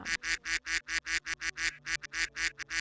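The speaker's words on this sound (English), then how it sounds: "Ducks quacking" Ducks quack in a loud, steady run of repeated calls on a forest river, about a dozen sharp bursts in quick rhythm with no talking over them.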